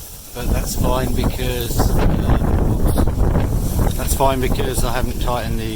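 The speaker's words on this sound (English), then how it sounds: "we're getting some pretty good wind now" Strong gusts buffet the microphone outdoors beside an e-bike wind turbine, a loud continuous roaring rush that never lets up while someone talks over it.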